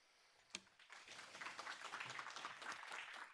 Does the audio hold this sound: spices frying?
no